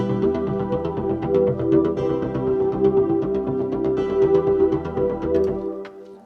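A synth intro for a cheesy 80s-style dance song made in Logic Pro, drenched in flanger, plays a sustained sweeping tone over a steady, busy pattern of notes, even and moderately loud, ending in a quick fade.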